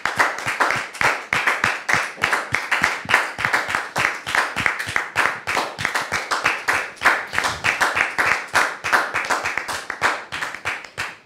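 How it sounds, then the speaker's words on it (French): Studio audience at a French television talk show breaking into sustained, dense applause, many hands clapping loudly and steadily for the full stretch with no talk over it. "Très cher public, merci de recevoir Dame Josiane sous vos applaudissements."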